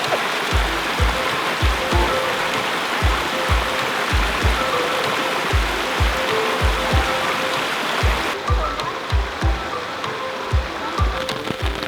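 Steady rain hisses outdoors beside water in Slovenia, with soft low thumps recurring throughout and no talking.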